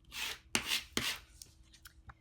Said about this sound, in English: I'm just going to use my scraper to really burnish it.